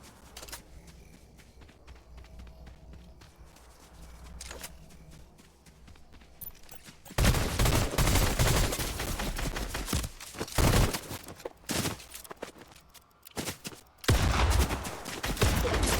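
Gunfire in the video game Fortnite, beginning with quieter scattered game sounds, then dense, loud bursts of rapid shots and impacts continuing through to the end.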